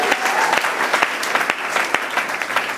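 A church congregation claps during a sermon, with sustained, fairly loud applause made of many overlapping hand claps and a few sharper individual claps.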